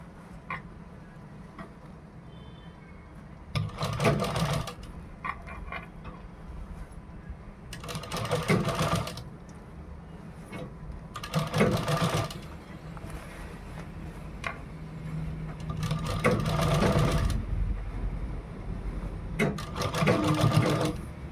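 A sewing machine stitches a designer blouse in repeated short runs of fast, close rhythmic whirring and ticking, each burst separated by quieter pauses while the fabric is repositioned.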